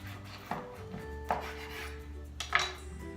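A knife slices a squash in half on a board: three distinct crunching strokes with a quiet hum behind them.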